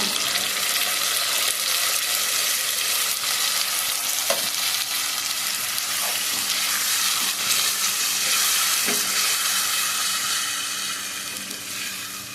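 Ground tomato fries for soybean palya, a loud, steady sizzle with occasional stirring clinks throughout, tapering slightly at the end.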